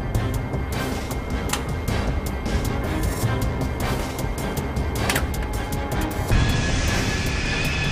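A CRJ regional jet brakes hard during a rejected takeoff on a runway, giving a steady loud roar of engine and rolling noise with scattered sharp clicks and squeaks, swelling slightly toward the end.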